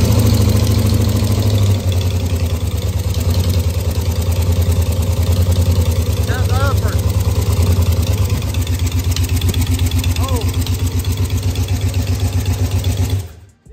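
Damaged all-aluminum small block Chevy V8 running cold in a shop, its loud steady idle rumbling close and continuously with a rough knocking pulse throughout, cutting off abruptly at the end.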